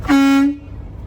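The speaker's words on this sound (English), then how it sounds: "I want to make sure that my air horn is working." A single short, loud truck air horn blast lasting about half a second, steady in pitch, followed by quiet idle.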